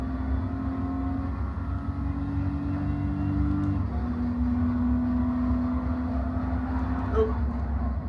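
A racing video game car engine runs steadily in fifth gear, a loud sustained drone with a pitch step partway through as it pulls on; a faint voice may sit underneath.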